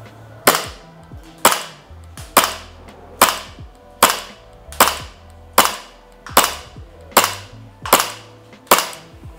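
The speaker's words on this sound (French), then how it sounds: "j'ai tiré 11 coups et non pas 10" A KRYTAC Maxim 9 SilencerCo airsoft pistol fires eleven sharp, loud snapping shots at an even pace of roughly one per second, each with a short mechanical clack, with no voices.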